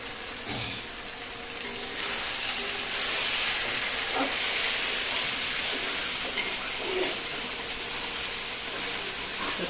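Pointed gourd (potol) frying in oil in a pan, a steady bright sizzle and hiss holding throughout with occasional soft stirring clinks, close and fairly loud.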